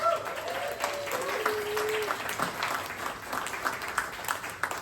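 Clapping from a comedy show crowd at a fringe festival welcomes guest speaker Murad. It is fairly quiet and scattered, with a few thin whistle-like tones and some murmured voices over it.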